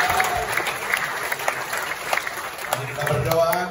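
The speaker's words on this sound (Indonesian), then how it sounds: "Tepuk tangan buat Tuhan kita." A church congregation claps together at a national mission conference, a loud, dense burst of applause that runs the whole time with a few voices mixed in.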